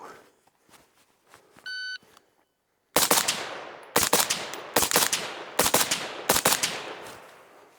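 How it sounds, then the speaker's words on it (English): A shot timer beeps once, then a 5.56 rifle fitted with a Griffin Armament Dual-Lok HRT suppressor fires five quick pairs of loud, close, muffled cracks, each double separated by brief pauses. "I'm gonna just shoot some doubles here."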